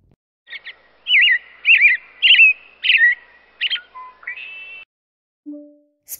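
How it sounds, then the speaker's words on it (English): A robin sings a clear, close series of warbling, whistled phrases, several bursts in quick succession that taper off, followed by two short electronic tones. "Robin."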